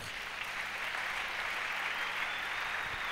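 A church congregation applauds during a sermon, a steady, even wash of clapping from many hands that stays at a constant level throughout, with no speaking heard.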